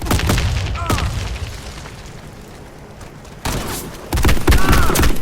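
A grenade blast and rattling gunfire in a military shooter video game, sharp bursts at the start, a quieter lull, then a loud explosion and heavy firing near the end, all close and harsh.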